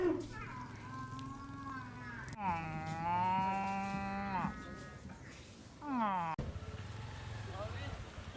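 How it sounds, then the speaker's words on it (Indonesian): Sacrificial cattle for Eid al-Adha in Southeast Sulawesi, Indonesia, moo loudly and close by, with several long, drawn-out bellows rising and falling over a steady low rumble of background noise. "Presiden Joko Widodo kembali menyalurkan sapi kurban di Provinsi Sulawesi Tenggara menyambut perayaan Hari Raya Idul Adha 1443 Hijriah tahun 2022"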